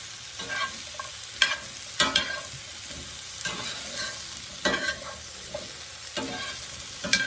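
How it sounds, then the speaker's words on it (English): Pork chops with carrots and onions are stirred in a skillet with light oil, a steady sizzle punctuated by bursts of scraping and clattering from the stirring, close and with no voices. "Now, let me get them stirred around here."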